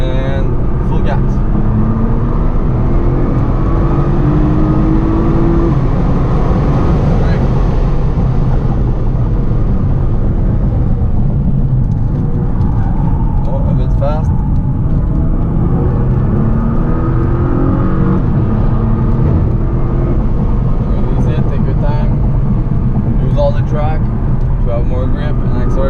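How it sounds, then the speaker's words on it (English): Nissan GT-R accelerating hard on a race circuit, a loud continuous engine roar with rising and falling pitch through the run, heard up close from inside the car under a voice giving instructions. "Go wide and full gas."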